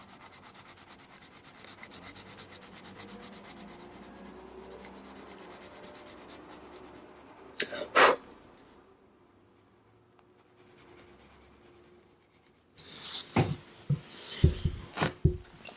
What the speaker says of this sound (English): I'm blending from the other side with my cream color pencil.